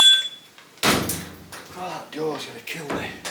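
A door in an old stone house bangs shut with one loud, sharp slam after a quiet moment, followed by someone talking nearby.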